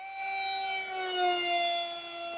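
A Racerstar BR2406 2600 kv brushless motor spins a KK 6040 propeller during an outdoor field test on 3S or 4S power. It gives a steady, loud, high-pitched whine that swells slightly in the middle and continues without a break.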